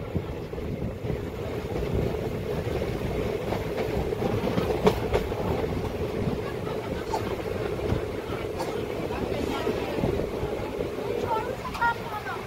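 Kacheguda Intercity Express rolling on rails on a loop line near Akkannapeta station, a steady rumble with soft clickety-clack rhythm heard from inside, quiet and continuous, with occasional voices.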